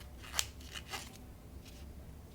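Scissors snipping into a Dollar Tree foam block, a few quiet close cuts: one sharper snip followed by softer crunching snips, faint overall.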